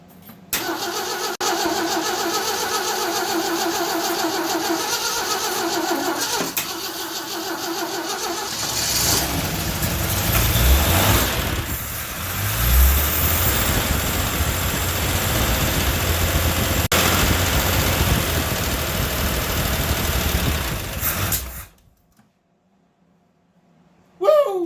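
Rebuilt AMC 258 inline-six in a 1982 Jeep CJ7 cranks, catches and roars to life, then runs at a rough, loud idle with some revving for around twenty seconds before cutting off.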